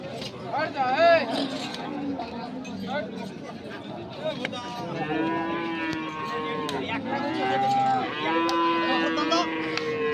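Cattle at a crowded sacrificial livestock market before Eid, with large bulls bellowing in repeated drawn-out moos, some near and some farther off, over a busy background of crowd chatter.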